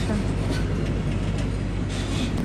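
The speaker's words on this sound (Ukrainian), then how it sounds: "Уже їде поїзд з машинками." A long freight train carrying new cars rumbles steadily through a port zone, a continuous loud broadband roar with no distinct breaks.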